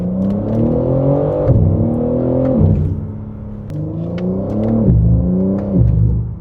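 A bone-stock car engine revved up close, its pitch climbing and dropping back in about four repeated rises and falls, loud and steady with no talking.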